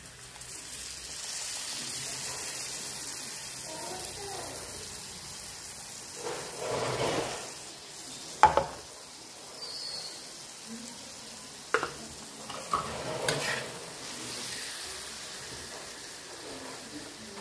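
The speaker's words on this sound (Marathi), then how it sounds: "मसाल्याने तेल सोडले, आता आपण टमाटर पेस्ट टाकून घेऊ शेवट।" Tomato paste goes into hot masala oil for egg curry, setting off a soft, steady sizzle with a louder burst, followed by a few sharp spoon clatters against the pan.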